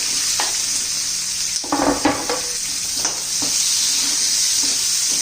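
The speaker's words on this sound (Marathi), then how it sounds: "पहिला कांदा घालायचा त्या तेलामध्ये" Onion frying in hot oil for a raw banana curry, a steady hissing sizzle with a burst of louder crackling and a few utensil scrapes and taps against the pan, heard up close.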